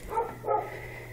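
A dog gives two short barks about a third of a second apart, close by and moderately loud, over a low steady background hum.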